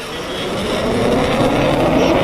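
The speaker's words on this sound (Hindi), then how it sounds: "आज हमारे फाइटर जेट्स एक्सप्रेस वे पर उतरे" Fighter jets land on the Ganga Expressway during an emergency road-runway drill, giving a loud, building roar of jet engines that swells and holds near and strong.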